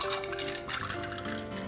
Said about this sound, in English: pour it into the glass so as not to disrupt the salts